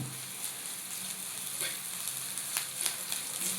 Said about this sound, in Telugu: సో దీంట్లో నేను కొంచెం జింజర్ గార్లిక్ పేస్ట్ చేస్తున్నాను.